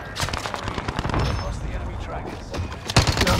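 Rapid automatic gunfire rattles in Call of Duty on Rebirth Island, with bursts of sharp shots, some nearer and louder than others, mixed with game sounds and a voice speaking over the action.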